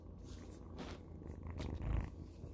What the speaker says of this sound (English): I think my cat wants to get in.